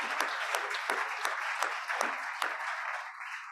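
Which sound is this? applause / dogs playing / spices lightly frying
applause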